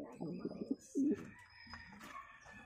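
Pigeons, including double-banded cocks, give a couple of soft low coos up close in a loft, with faint chirps and quiet background sounds after.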